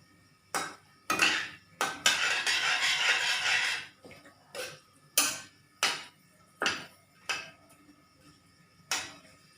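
A spatula scrapes and clanks against a pan in repeated strokes as sesame chicken fries on low heat with sugar browning, with a brief burst of hissing frying near the start.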